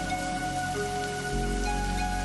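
Steady rain falls outside a country house, a soft, even wash of patter with no breaks, faint and continuous, with a low drone underneath and no voices.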